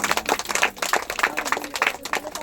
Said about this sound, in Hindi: ताली से स्वागत करेंगे